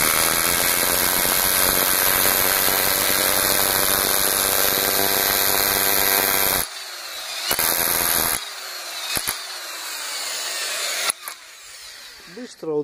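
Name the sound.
drill bit drilling into foam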